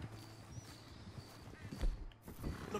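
Horse hooves clip-clopping in the video game Red Dead Redemption 2, a steady moderate-loud gait with scattered heavier thumps, set against a continuous game ambience with tonal background hum.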